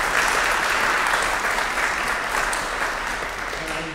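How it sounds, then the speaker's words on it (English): Applause from the audience at a symphony string ensemble concert, a full, sustained round of clapping that tapers off slightly toward the end, with low room rumble underneath. "Please give those that are here a supportive round of applause."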